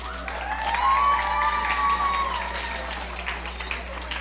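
Audience applause for a guest speaker at a National Library event in Aruba, a sustained patter of clapping from a moderate crowd with a few cheers rising early on, then gradually thinning.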